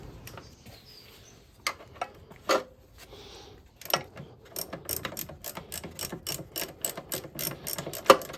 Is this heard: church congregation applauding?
no